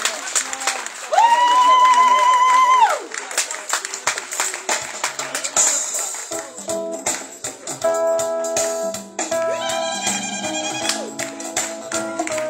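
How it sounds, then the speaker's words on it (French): A church congregation at Mass breaks into applause and cheering for a couple celebrating their wedding anniversary. A voice comes first, then dense, sustained clapping fills the space for several seconds, with musical tones running underneath. "Sous vos acclamations, s'il vous plaît."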